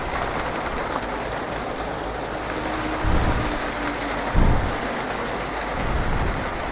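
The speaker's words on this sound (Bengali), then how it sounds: "বৃষ্টি একটা প্যারা দিচ্ছে" Steady rain falls during a motorcycle ride, a dense continuous hiss with two low rumbles of thunder rolling in partway through.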